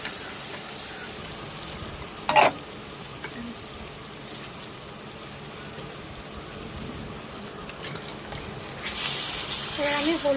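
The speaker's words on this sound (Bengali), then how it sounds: "এর মধ্যে এবার আমি টমেটোগুলো দিয়ে দিচ্ছি।" Chopped tomatoes added to softened onions frying for mutton curry, a steady soft sizzle throughout with a sharp clink early on and the frying growing louder toward the end, a voice talking over it.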